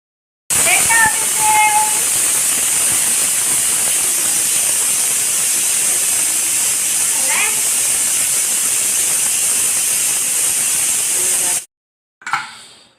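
A pressure cooker holding jackfruit biryani hisses steam loudly and steadily for about eleven seconds, with faint whistle-like squeaks near the start, then stops abruptly before a short burst of sound at the end.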